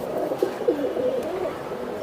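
Giribaz pigeons, two pairs kept for flying, give soft, low, throaty coos, a few rounded calls repeating close by over a steady murmur of background noise.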